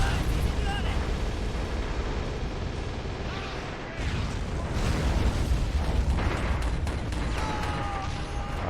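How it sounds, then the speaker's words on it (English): Autocannons fire in a World War II battle in Men of War: Assault Squad, dense bursts and booms packed into a constant loud roar of combat, with a voice talking over it. "Autocannon firing over there"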